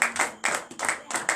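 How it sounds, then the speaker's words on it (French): Congregation at a night deliverance and prophecy church service clapping in bursts of rhythmic, roughly paced handclaps, close and moderately loud, with no distinct voices. "Donne l'acclamation à Jésus"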